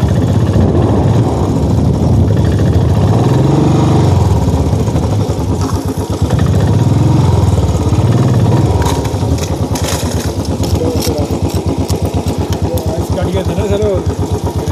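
A motorcycle engine labours up a steep mountain road in Uttarakhand, throbbing steadily and close for the whole stretch, with its pitch and load shifting as the rider works the gears.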